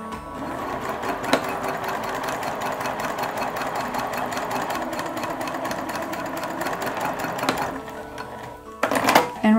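A sewing machine runs steadily, top stitching a pressed-open seam on a bucket hat brim at a long stitch length, with a continuous motor whir and needle chatter for most of the stretch, a brief pause, then a short burst.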